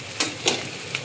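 Sliced onion and crushed ginger fry in oil in a pan while making hilsa pulao: a close, steady sizzle broken by three sharp scraping stirs.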